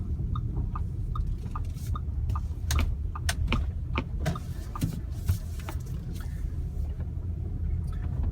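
A 2018 Audi Q5 2.0T rolls through a big puddle at night, giving a steady close rush and wash of water under the tyres with a few sharp ticks and splashes throughout. No one speaks.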